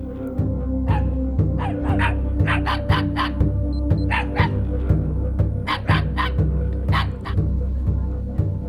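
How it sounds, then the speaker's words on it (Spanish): Several dogs barking threateningly in a jungle village, in repeated sharp barks at mid distance over a steady low background hum, with no talking. "Los perros nos ladran, amenazadores."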